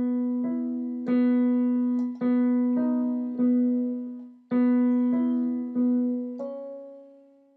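Right hand alone on piano playing a melody in an arrangement, about seven clear struck notes and chords that each ring and decay, evenly paced, close and solo.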